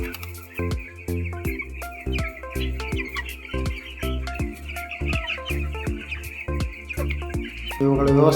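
Inside a poultry farm shed, chicks peep and cluck continuously in a dense, overlapping chorus of short rhythmic calls, close and fairly loud with no talk.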